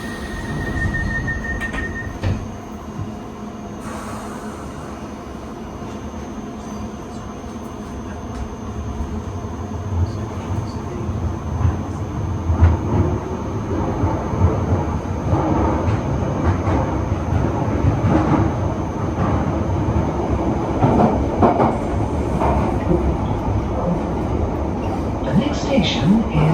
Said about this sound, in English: This is a Piccadilly line service to Williams Lane.